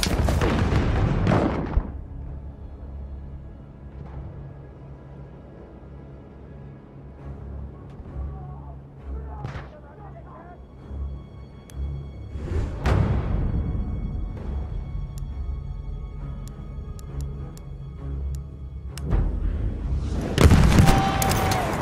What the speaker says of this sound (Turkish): Bir bomba!